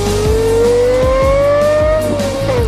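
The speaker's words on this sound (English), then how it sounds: "the note on this engine is just beautiful" A Lexus LFA's V10 engine sings in a smooth rising rev, its tone climbing steadily then easing off, loud and close with no talk over it.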